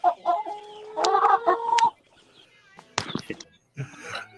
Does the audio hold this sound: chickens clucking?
yes